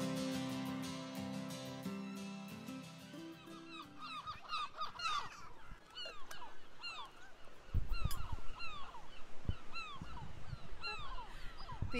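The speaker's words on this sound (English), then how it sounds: "The unmistakable sound of a gull and also the seaside" Gulls calling repeatedly on the seaside at Brighton, a run of sharp honking cries rising and falling at middle distance, with a low steady hum underneath and a few louder bursts toward the end.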